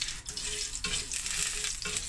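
Mustard seeds and cumin fry in a little leftover oil in a pan, making a bright, continuous sizzle with brief dips and surges as they crackle.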